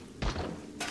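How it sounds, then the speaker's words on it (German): Two short, muffled gunshot thuds from a hunter in the video game 7 Days to Die, a fairly distant shot followed by a second one under a second later, each a brief broadband crack. "Er kann seine Schüsse hören auf die wehrlosen Rehe."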